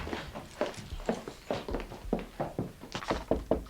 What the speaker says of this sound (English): I'll give her a knock.